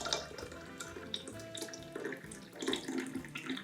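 Hot water poured by eye into a glass for an Irish coffee, a steady close splash and trickle of about 60 ml of liquid running for a few seconds without talk.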